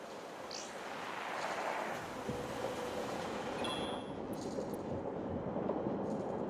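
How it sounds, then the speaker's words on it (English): A train rolling past in the puzzle game Cipher Zero, a steady loud rumble with rattling wheels and faint high squeals, sustained throughout without talk. "Train's coming by."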